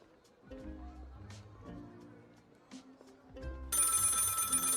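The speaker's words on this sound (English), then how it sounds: "The phone is ringing." A telephone rings in the comedic deduction video game Lil' Guardsman, a repeating electronic bell that sounds in short bursts beneath a voice talking, growing louder and brighter near the end.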